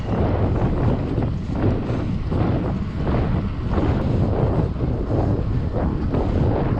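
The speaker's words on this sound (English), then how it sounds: "We're dealing with cross headwind" Strong cross headwind buffets the microphone during an unpowered ride on an electric bike, a loud, constant roaring rush with gusty swells throughout and no talking.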